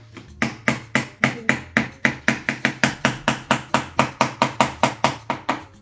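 A small hammer tapping repeatedly on a fossil dig kit block, about twenty sharp, evenly paced knocks, close and loud with no talking.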